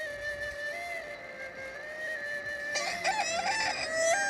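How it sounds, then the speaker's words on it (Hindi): A rooster crows clearly at moderate distance, a long drawn call followed by a rising, warbling second crow, over a quiet background. "मुर्गी है ना?"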